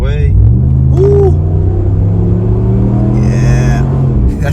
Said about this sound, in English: Big fan of the sound of this exhaust.